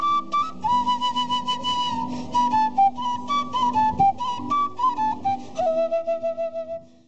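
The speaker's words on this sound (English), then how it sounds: "The quena is a flute that's made out of bamboo usually, and it sounds something like this." An Andean quena, a bamboo flute, plays a breathy flowing melody of many short notes that step gradually downward, solo and close, fading at the end.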